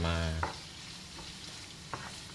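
Spoon stirring a mayonnaise mixture in a bowl, a soft wet scraping and squelching with a couple of brief clicks against the side, heard alone and close after a short low hum at the start.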